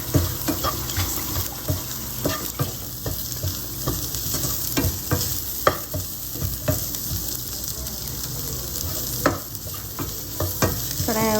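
Tomatoes being sautéed in a pan for a South Indian egg pepper thokku, a continuous loud sizzle broken by repeated scraping and clacking strokes of a spoon stirring at an uneven rhythm.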